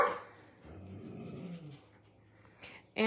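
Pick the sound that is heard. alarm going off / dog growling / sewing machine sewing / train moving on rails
dog growling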